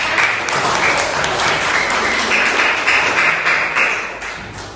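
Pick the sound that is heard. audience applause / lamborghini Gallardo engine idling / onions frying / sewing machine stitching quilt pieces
audience applause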